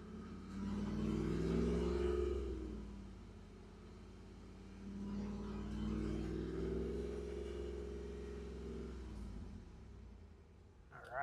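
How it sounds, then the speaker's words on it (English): Car engine revved and held at around 2500 RPM during a battery test, a steady mid-pitched drone that swells, dips slightly and rises again before easing off near the end, with no talking. "they want it revved up to about 2500 RPM and then hit test"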